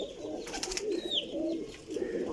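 Several pigeons kept as champion stock coo in low, rolling phrases nearby, with a higher chirp or whistle cutting in midway over steady background noise.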